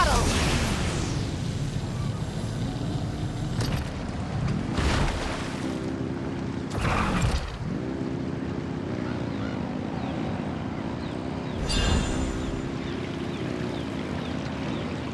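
Boat engine running at full throttle in Genshin Impact, a steady low drone with wind and water wash over about fifteen seconds, broken by a few short bright bursts of splash or gusts.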